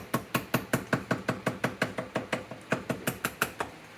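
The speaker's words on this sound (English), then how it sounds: "You can take your gasket material and just tap it with a hammer" A hammer taps lightly and steadily on gasket material to cut a gasket for an IH M 3 hp engine, about five even taps per second, with a brief pause partway through, close and clear with no talking.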